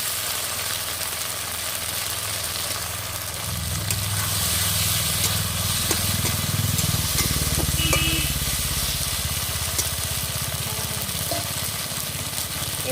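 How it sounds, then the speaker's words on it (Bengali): Chopped tomato hits a hot pan for village-style rui fish kalia, and the steady frying hiss swells into a louder, fuller sizzle midway, heard up close over a faint background hum. "এবার টমেটো কুচি দিয়ে দেবো"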